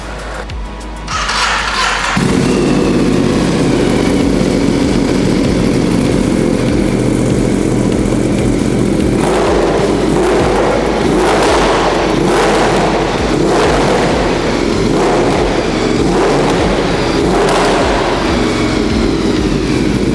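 Ducati Multistrada 1260 Enduro with a titanium full-system exhaust starts and settles into a loud, close idle, then gets blipped repeatedly in short bursts of throttle.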